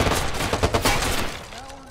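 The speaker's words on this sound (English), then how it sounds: "I'm taking fire here." Gunfire in the video game Watch Dogs: a dense burst of rapid shots and crackling fire, loud and close, fading over the last half second.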